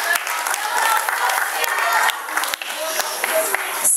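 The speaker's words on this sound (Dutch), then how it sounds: "Een applaus." Applause and cheering from an audience at a school graduation ceremony in Zellik, Belgium, a dense, steady wash of clapping with some crowd voices mixed in throughout.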